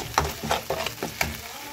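Masala frying in hot oil in a home kitchen pan, a soft crackling sizzle with short bursts of spattering and stirring scrapes, close and moderately loud, with no voices.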